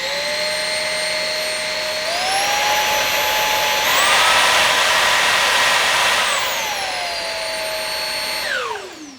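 A cordless vacuum motor whines steadily, its pitch stepping up twice as power increases, then winding down at the end; loud and close, no talking.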